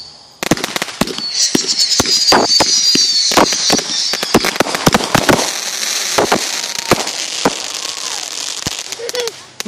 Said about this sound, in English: Woo, look at the firework, Trey.